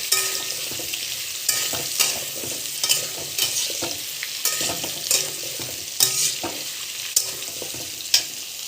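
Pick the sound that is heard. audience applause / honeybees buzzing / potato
potato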